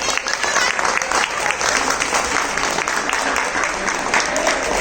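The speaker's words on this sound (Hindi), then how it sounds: "मैं चाहूंगी कोई जोरदार तालियों से स्वागत करें।" Loud, steady applause from an audience welcoming a speaker, dense clapping filling the whole stretch without a break, with faint voices mixed in.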